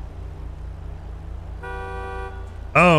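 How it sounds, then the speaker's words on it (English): A car horn in a GTA roleplay game sounds a sustained, steady honk over a low engine hum, then a sharper, wavering burst of horn-like tone rises at the very end. "Yeah, you're honking."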